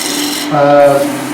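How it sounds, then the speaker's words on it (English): A chisel cuts spalted beech on a wood lathe, giving a close, loud rasping scrape that turns into a brief tonal squeal partway through, over a steady machine hum. "I'm just cutting on the wheel of the chisel here."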